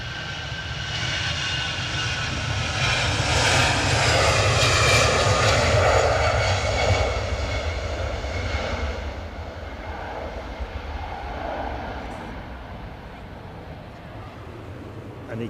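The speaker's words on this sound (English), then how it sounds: "what's coming in? Qatar 787 from Doha." A Qatar Boeing 787 Dreamliner from Doha landing at Edinburgh, its jet engines a loud rising and falling roar as it passes, then fading into a lower rumble, with people talking over it.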